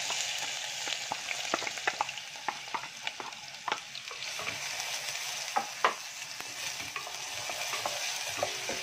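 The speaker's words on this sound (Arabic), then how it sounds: "انا حطيت زيت على حتة السمنة، وده البصل هنحطه اهو" Onions frying in a mix of oil and ghee while being stirred for restaurant-style mandi rice, a steady close sizzle broken by frequent scraping clinks of a utensil against the pan, with no talking.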